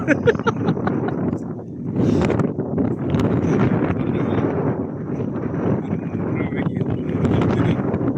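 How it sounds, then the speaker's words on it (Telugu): Strong wind near Hatta Dam in Dubai buffets the microphone in continuous gusty roaring, loud and steady throughout with slight surges. "ఫుల్ గాలి వీస్తుంది"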